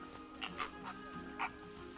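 Cuban flamingos chatter in a zoo simulation game, a few short nasal honks and squawks spaced over a steady low background hum.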